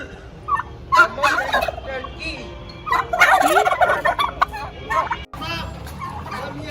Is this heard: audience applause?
no